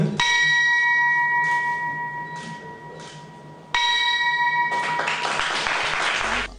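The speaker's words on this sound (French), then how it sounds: "Premier ministre du Bénin, Lionel Zinsou, sonne ce mardi la cloche marquant la fermeture du marché à la Bourse régionale des valeurs mobilières BRVM" The closing bell rings at the BRVM regional stock exchange, two loud, sustained metallic bell tones each decaying slowly, the second followed by a burst of applause from the trading floor.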